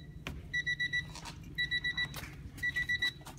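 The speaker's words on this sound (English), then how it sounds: "Sorry for the dumb Honda buzzer." A Honda car warning buzzer beeps in three quick groups of four high tones over a low engine rumble.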